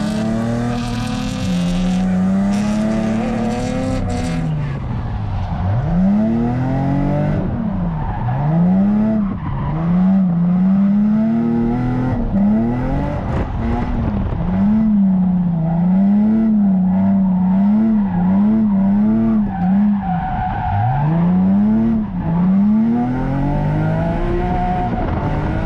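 Several cars drifting together in a sim racing video game, engines wailing continuously with rising and falling revs as they bounce off the limiter through long slides, loud and close for the whole stretch with no talking.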